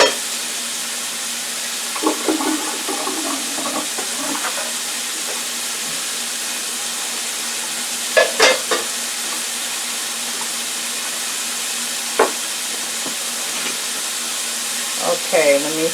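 Cube steak frying in a pan for a smothered steak dinner, a low continuous sizzle and hiss that runs the whole length, with scattered clatters and a few short bursts of voice over it.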